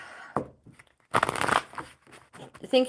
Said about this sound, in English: we'll shuffle these cards for Hope, my friend